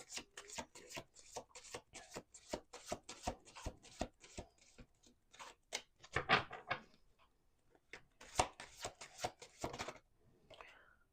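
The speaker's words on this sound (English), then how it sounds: "Let's do 2 more shuffles." Tarot cards are shuffled by hand in a quiet room, giving rapid, crisp riffling flutters in bursts with brief pauses between. The sound is close and soft, with no talking.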